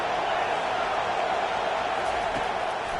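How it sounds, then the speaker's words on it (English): Stadium crowd roaring in the College Football 25 video game during a third-down defensive stand, a dense, steady wall of cheering noise held at a constant loud level with no distinct voices standing out. "Decibels rising as the crowd gets behind this defense on 3rd down."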